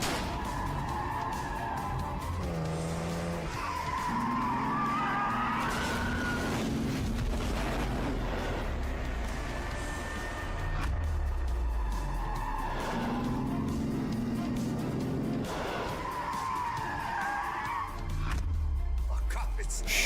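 A car speeds past with tyres squealing and skidding, a loud engine roar under tense music, with voices speaking briefly over the commotion.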